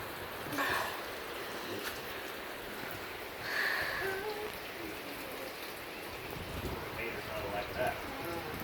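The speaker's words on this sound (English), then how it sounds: "Like the rain is literally going sideways." Heavy wind-driven rain during a thunderstorm, a steady hiss of rain hitting surfaces with gusty swells throughout, moderately faint and continuous.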